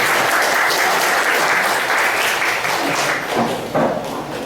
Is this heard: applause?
yes